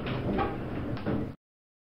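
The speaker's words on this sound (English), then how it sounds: "Doors closing." Elevator doors sliding shut in a run-down shopping centre, a steady mechanical rumble with a thump near the end before abrupt silence, no talking.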